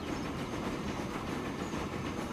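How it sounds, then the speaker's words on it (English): Trains run along the tracks in the Transport Fever game, giving a continuous rolling rumble at moderate volume with no pauses or voices. "We got trains coming in there."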